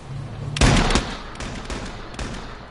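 Gunfire in the battle royale game H1Z1: a loud burst of rapid shots, then several more scattered single shots over a low background.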